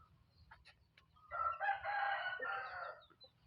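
A rooster crows once, close and loud, a long drawn-out call that starts with a few short clucks and then trails off.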